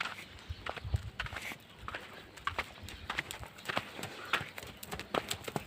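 A male horse moves with a rhythmic clip-clop of hooves, irregular sharp impacts over a soft outdoor background, no talking.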